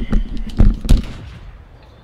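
Sharp gunshots ring out in a first-person video game, three punchy bursts in quick succession with a thumping low end, followed by a fading tail of ambient noise.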